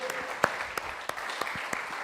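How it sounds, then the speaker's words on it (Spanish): Applause from a church congregation during a Sunday service, a steady patter of clapping with a few sharper individual claps standing out, moderately loud, with no talking. "Un aplauso para nuestro Dios maravilloso"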